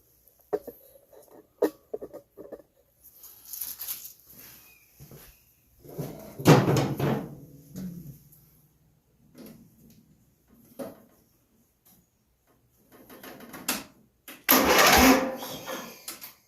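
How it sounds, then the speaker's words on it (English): Starter motor on an old 27-year-old Murray riding mower cranking over in a few separate bursts, with clicks and knocks between the louder whirring spells, close and clear with no talking. "let's just go ahead and turn the key and see if that key switch will work that solenoid and turn that starter over"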